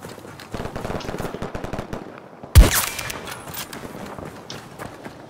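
Rapid automatic gunfire rattles in the video game Battlefield 2042, with a sudden loud blast midway and lighter shots and battlefield noise continuing around it.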